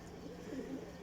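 Pigeons cooing softly at a breeder's loft, a faint low murmuring coo over quiet background, heard only briefly.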